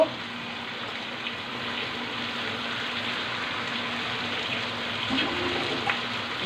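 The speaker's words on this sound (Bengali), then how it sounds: "এখন আমি সামান্য একটু জল দিয়ে দিব" Water pours steadily into a pan of rohu fish curry with pointed gourd and potatoes, a continuous close splashing wash lasting several seconds with a slight swell near the end, no voices.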